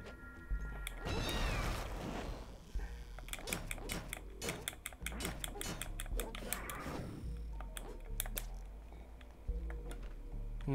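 In The Swords of Ditto, a bomb cat enemy lets out meows amid busy in-game effects, rapid ticking and percussive hits, all at low volume over continuous game music.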